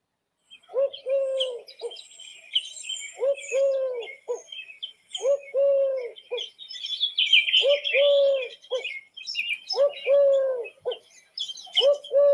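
Repeated soft, hooting dove coos in regular phrases, each a low breathy series, with faint chirps of other birds in the background.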